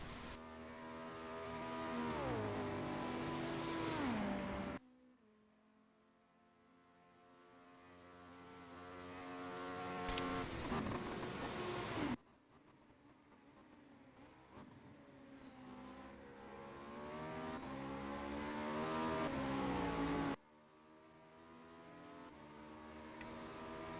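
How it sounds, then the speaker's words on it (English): BMW race car engine from a Le Mans 24-hour endurance racing game, revving through repeated gear changes in three long accelerating pulls separated by sharp upshift drops, loud and continuous with no talk. "I do think the BMW sounds wonderful."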